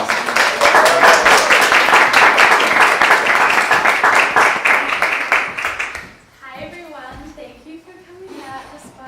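A warm round of applause from an audience at an Idyllwild Arts Idytalk, a dense and loud burst of clapping lasting about six seconds before a person begins speaking.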